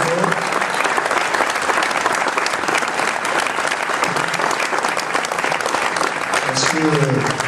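Sustained applause from an audience at a campaign announcement for the Yutz mayoralty, steady dense clapping filling the room throughout, with a few voices faintly audible beneath it.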